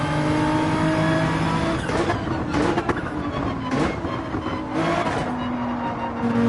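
A race car engine at Spa-Francorchamps in a racing video game, loud and steady as it revs and accelerates, with the pitch dipping and climbing through gear changes and a possible brief tire squeal.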